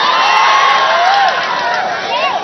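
A large crowd at a political rally in Prachinburi cheers and shouts loudly and continuously, a dense roar of voices with whoops rising above it.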